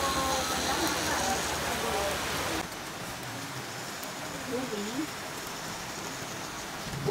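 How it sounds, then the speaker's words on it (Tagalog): Steady rain hisses down during a flood, a dense, even wash of falling water with a voice speaking over it early on. "It's raining."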